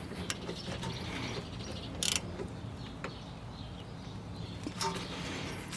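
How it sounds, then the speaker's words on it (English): A hand ratchet turns a bolt during a car brake pad and rotor replacement, giving a few sparse, faint clicks and short metallic bursts against a quiet garage background. "Now you take the ratchet."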